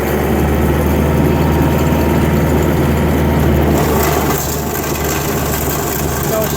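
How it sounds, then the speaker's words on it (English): A snow blower's engine runs steadily at a cabin during a major 2018 blizzard, a loud, continuous low mechanical drone that shifts slightly in tone partway through, with no speech over it. "If there was any more snow down, I don't think I'd be able to move it with the blower, because it just kind of pushes it."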